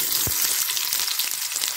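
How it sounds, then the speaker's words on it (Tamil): Steady, dense sizzling of fennel seeds and onion frying in hot oil, with a few sharper pops and crackles, close and continuous throughout. "கொஞ்சமாக சோம்பு போட்டு தாளிச்சிக்கலாம். சோம்பு நல்லா பொரிஞ்ச பிறகு நறுக்கி வச்சிருக்கிற வெங்காயம் போட்டுக்கலாம்."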